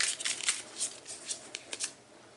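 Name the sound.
tarot cards being shuffled and drawn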